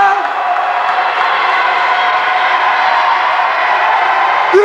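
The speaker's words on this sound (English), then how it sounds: "Big crowd!" Large crowd cheering and shouting at a 1996 high school volleyball championship between Albert Campbell and Mowat in Scarborough, a loud, steady roar of many voices that stays constant throughout.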